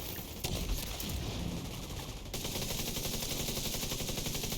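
Video game gunfire: a rapid, continuous rattle of shots at steady volume, briefly broken once before carrying on uninterrupted to the end.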